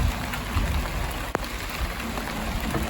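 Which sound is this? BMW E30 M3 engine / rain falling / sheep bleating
rain falling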